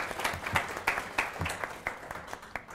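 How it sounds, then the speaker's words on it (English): Applause from a conference audience welcoming a panel of market analysts at a tourism trends presentation, steady clapping from a moderate crowd for a few seconds. "Please give them a round of applause."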